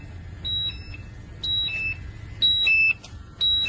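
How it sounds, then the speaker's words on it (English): A gas monitor alarm signals a hazardous atmosphere with shrill electronic beeps in short two-tone bursts, about one per second, loud and close over a low hum. "You can hear the alarm going off."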